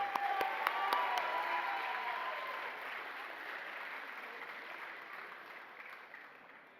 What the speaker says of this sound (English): a big round of applause for men's volleyball